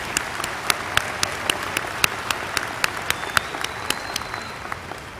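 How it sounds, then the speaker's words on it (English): Graduates at a Stephen F. Austin State University commencement ceremony break into a round of applause, a dense, steady wash of many hands clapping with sharp individual claps standing out throughout. "Let's give yourselves a round of applause."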